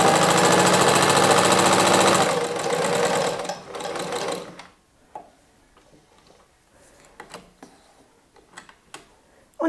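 A sewing machine stitches fabric for a Halloween pumpkin basket, running loud and steady for about four seconds before stopping, followed by quiet handling clicks and small taps.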